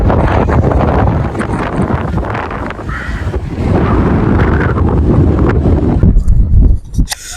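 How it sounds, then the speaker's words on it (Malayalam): Strong cold wind on Wathba hill, a man-made hill in Abu Dhabi, roars and buffets the microphone in loud, gusty rushes that rise and fall over several seconds, with a few sharp thumps near the end. "ഭയങ്കര തണുത്ത കാറ്റാണ്."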